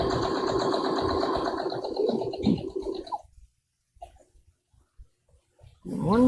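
A Brother sewing machine stitches fabric for a bookmark, a close buzzing whirr for about three seconds, then near silence with small clicks before another brief burst of machine noise at the end.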